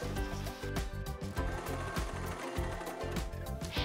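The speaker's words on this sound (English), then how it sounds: "pin everything in place and sew all the way around." A sewing machine stitches the seam joining the hood to a kids' sweatshirt, its needle running in a steady, close mechanical whir with small rhythmic dips, heard alone without talk.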